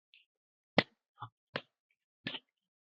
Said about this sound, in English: Clap, clap, clap, closure.